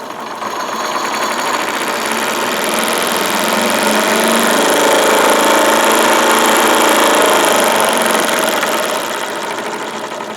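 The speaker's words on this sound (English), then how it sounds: "But if we open up the taps, you'll see it will rev." A Wilesco D22 model steam engine runs at high speed, its rapid whirring, buzzing rhythm swelling loud and close as it revs up, then easing slightly toward the end, with no talk.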